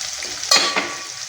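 Pieces of broad beans fry in a pan and are stirred, giving a soft steady sizzle. Two brief louder scraping stirs cut through it, close by, with no talking.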